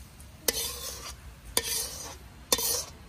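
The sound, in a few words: stir-frying meat in a wok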